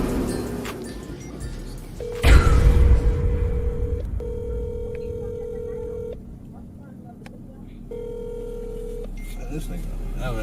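A phone call rings out unanswered: a steady ringback tone repeats in three long bursts with gaps between them, over low background noise and a short loud thump.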